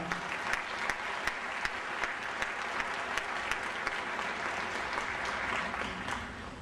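An audience at a 2011 Martin Luther King Jr. Day gathering breaks into sustained applause, a dense wash of clapping that holds steady for several seconds before tapering slightly at the end.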